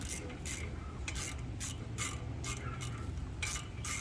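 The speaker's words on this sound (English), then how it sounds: "So we get my 10mm ratchet here." A 10mm ratchet tightening ARP header bolts, giving faint, quick bursts of clicking close by over a low background rumble, with no talking.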